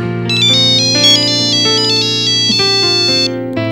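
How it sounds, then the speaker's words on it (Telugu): A mobile phone ringtone plays loudly and close in a bedroom at night, a bright electronic melody of sustained tones that shift pitch in steps, alone with no talking over it. "అందుకే మీ సెల్ రింగ్ చేశాం"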